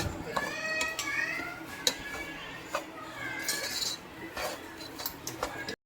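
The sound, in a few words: semolina (rava) being roasted in a pan for kesari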